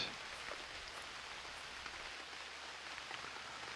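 Steady rain falls in the UnReal World survival game, a soft, even hiss of drops on surfaces with no talk over it.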